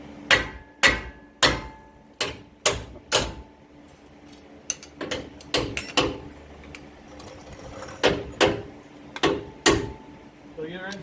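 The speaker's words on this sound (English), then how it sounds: "usually just take the hammer and tap it somewhere" Sharp metallic hammer taps on a Ford F-150 truck part while fitting a leveling kit ring out in uneven bursts, some single and some in quick clusters, close by and loud.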